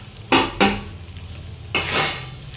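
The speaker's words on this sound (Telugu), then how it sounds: "రైస్ బాగా కలుపుకోవాలి." A spoon scrapes and stirs chicken egg fried rice in a pan, with three distinct scraping strokes, the last one longer and smoother, over a faint background hiss.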